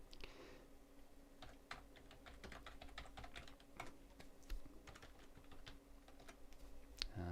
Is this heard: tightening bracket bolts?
no